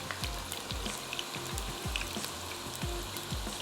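Potato pieces with garlic and ginger paste fry in a pan, giving a steady, close sizzle with repeated soft stirring scrapes every half second or so and no talk.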